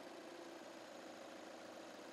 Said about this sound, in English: Now you are ready to test the lights by switching on the engine.